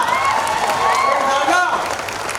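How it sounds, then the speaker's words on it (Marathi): Applause at an outdoor political rally (jahir sabha) in Ghansawangi, a steady wash of clapping from a large crowd with voices and cheering mixed in, sustained at even loudness throughout. "मंचावर उपस्थित सर्वांनी एकदा टाळ्या वाजवा"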